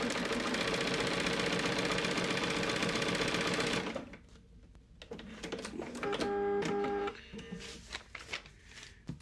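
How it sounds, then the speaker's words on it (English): A home sewing machine stitches the second seam line of a quilt block for an Alison Glass Trinket sew-along, a steady loud mechanical whirr for about four seconds, followed by quieter handling clatter and a short tonal run. "take it back to the sewing machine and sew that second line."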